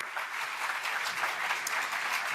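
Audience applause welcoming Prem Rawat at a formal bilingual Spanish-English event, a dense, even wash of clapping from a large crowd, sustained and fairly distant throughout.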